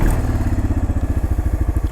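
A 1996 Arctic Cat 454 Bearcat 4x4 ATV engine firing up on electric start, settling into a loud close idle with a rapid, even thumping pulse.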